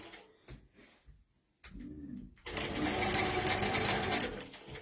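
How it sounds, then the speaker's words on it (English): A longarm quilting sewing machine runs steadily, loud and close, laying big basting stitches through a quilt, starting after a few quiet bumps and short bursts and holding a continuous hum to the end. "I'm just using big basting stitches just to tack it down so it stays where it needs to"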